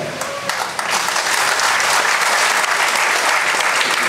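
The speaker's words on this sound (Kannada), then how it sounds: "ನೀವು ದಯವಿಟ್ಟು ಚಪ್ಪಾಳೆ ಹೊಡೆಯುವಂಥ ವಿಷಯ ಅಲ್ಲ" Loud, sustained applause from a seated audience at a public speech, building quickly into dense, continuous clapping from many hands.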